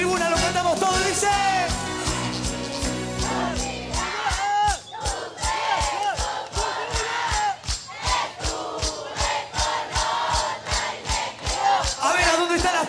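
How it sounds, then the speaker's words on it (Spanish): A stadium crowd sings along with live cumbia-style music on a Saturday TV show, massed voices chanting over a pounding rhythmic beat, loud and echoing, with the band driving underneath throughout. "Lo canta la tribuna, lo cantamos todos"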